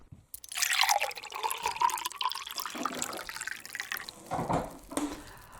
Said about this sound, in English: I have to pour again some water into another glass